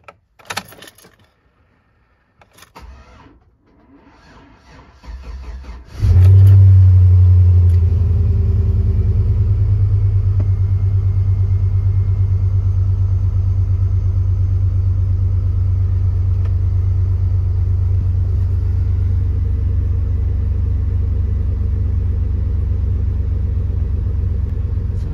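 Keys jangle for several seconds, then a Chevrolet Tahoe engine fires up after repair and settles into a loud, steady, close-up idle rumble that carries on alone to the end.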